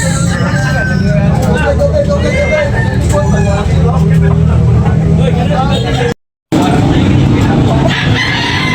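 Roosters crow repeatedly among loud chatter at a busy Tabunok, Cebu chicken market, with traffic and vehicle noise underneath and a brief dropout near the end.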